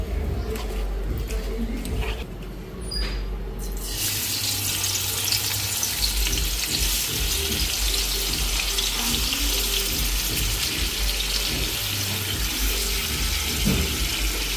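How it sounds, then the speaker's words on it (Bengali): Fish coated in salt and turmeric sizzling steadily in a hot pan, a loud continuous hiss and crackle that starts abruptly after a few seconds of quieter kitchen noise. "মাছটা মাইখা ভালো করে ভাজ্যা নি"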